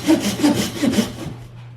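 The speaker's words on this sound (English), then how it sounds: "I'm just kind of watching the line here and cutting until that line gets matched" Hand saw cutting through a block of wood for a carved wooden rubber duck, with about four steady back-and-forth rasping strokes, close and fairly loud, fading out near the end.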